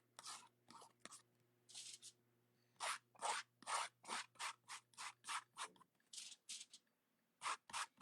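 Paint is scraped onto a canvas in roughly twenty quick, rasping strokes, close and quiet, in uneven bursts with short pauses between them and no voices.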